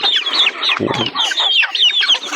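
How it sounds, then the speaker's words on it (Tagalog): Chickens cluck and chatter close by, a busy overlapping flock with sharp, repeated calls and no talking. "Dito tayo sa manok."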